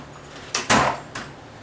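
A drawer in a tall metal Craftsman or Clark toolbox in a workshop slides and thuds shut, giving a short rolling scrape followed by a louder bump and a softer second knock, close and brief, with no talk.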